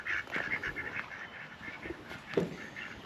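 Ducks quacking and honking, several short nasal calls in an irregular cluster, with one stronger honk near the end, faint and somewhat distant over a quiet background.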